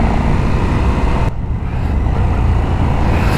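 A KTM 1390 Super Duke R Evo motorcycle engine roars loudly up close under riding wind, drops off for a moment as the throttle eases, then pulls hard again, with no talking.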